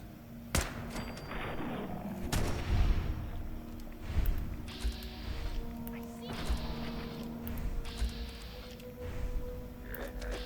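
Gunfire in a modded Fallout 4: scattered sharp shots and a few heavier thumps at irregular intervals, fairly faint against a busy game background, with someone talking over parts of it.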